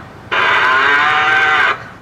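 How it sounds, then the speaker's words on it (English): A car-mounted bullhorn sounds a single loud, sustained electronic cow moo lasting well over a second, bright and steady, then stops abruptly. "it has a bullhorn on it that says moo wherever you go"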